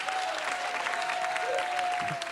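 Steady applause from a comedy improvisation show audience fills the whole moment, dense and continuous without a break.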